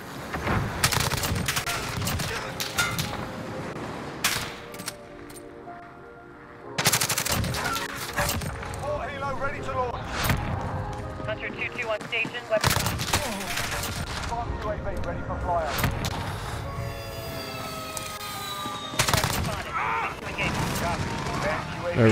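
Gunfire from a VTOL gunship in Call of Duty: Modern Warfare rattles in dense, loud bursts of rapid shots and explosive impacts, with brief pauses between volleys and scattered chatter underneath.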